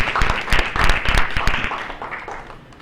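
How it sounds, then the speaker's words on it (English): An audience at a school for the deaf event gives a round of applause for a volunteer team, a loud, close burst of many hands that swells briefly and then tapers off within a few seconds. "Okay, so a round of applause for the team."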